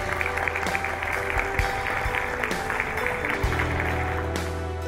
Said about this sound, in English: Kabir Khan in your big round of applause